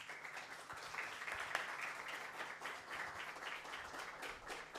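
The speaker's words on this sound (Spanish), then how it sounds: "Y vamos a recibir, pastor, con un aplauso," A church congregation at a Baptist church in Posadas, Argentina applauds the arriving pastor. The clapping is soft and diffuse, heard as a continuous patter at moderate distance.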